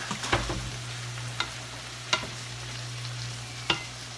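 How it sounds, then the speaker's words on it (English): Ghost pepper sauce cooking over medium heat while being stirred: a soft continuous sizzle with a low steady hum beneath and a few sharp scrapes of the spoon against the pot, close and fairly quiet. "cook that over like a medium heat. Stir this up."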